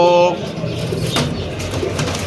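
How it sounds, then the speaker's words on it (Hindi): Pigeons coo at a bird market in Karachi, soft low calls close by over a busy background murmur. "गोल्डन डब वाली कबूतरी है।"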